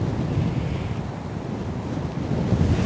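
Strong headwind gusts across a swampy disc golf course, a continuous low, blustery rumble buffeting the microphone throughout with no talking.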